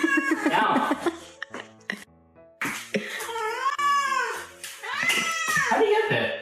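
A cat meows loudly and repeatedly in drawn-out, wavering, human-like cries at close range, alternating with a person talking back to it.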